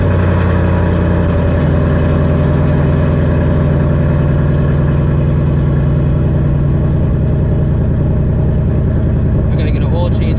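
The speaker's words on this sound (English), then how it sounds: "Alrighty, let this car warm up." A 950-horsepower Shelby GT350 sits idling while it warms up, its engine making a loud, steady, deep rumble that holds constant right up close.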